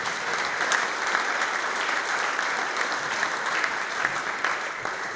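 Audience at an irrigation conference clapping steadily for a speaker, a dense continuous round of applause from a full room, even in loudness throughout with no voices over it.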